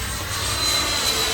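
An F-14 Tomcat jet roars in flight in a flight video game, a loud, steady engine rush with a faint high whine that holds unbroken for a second or so.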